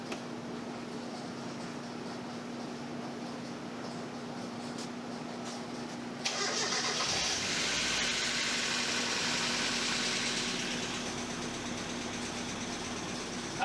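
A Mazda Miata engine runs after an oil change, first with a steady low idle hum, then louder and rougher from about the midpoint, holding that level to the end.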